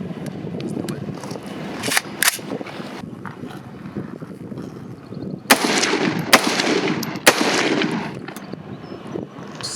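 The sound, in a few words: KS-47 pistol firing cheap Russian Red Army ammunition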